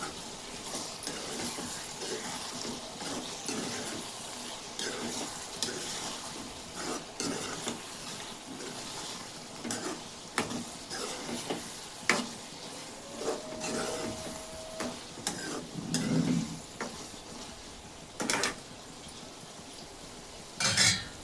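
Potato and egg curry with turmeric is stirred in a pan, with repeated scraping and clinking of a metal spoon over a soft sizzle, irregular strokes close by with no voices.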